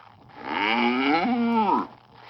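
A cow gives a single, loud, drawn-out moo that rises and then falls before trailing off, heard close and clear against near silence in a children's animal-sounds game.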